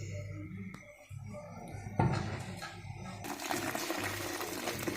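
Boiled jaggery water being strained, with liquid pouring and splashing in uneven bursts that swell into a steadier gushing flow near the end, close up and fairly quiet.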